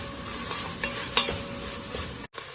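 Onion and tomato sauté in a pan as the base for a chicken wings soup, giving a steady close sizzle broken by a few stirring scrapes and spoon knocks, with no talk.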